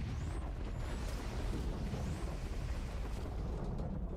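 Nuke turrets fire at enemies in a video game, producing a dense, continuous roar of overlapping explosive booms and rumble at steady high loudness, with no clear gaps between blasts.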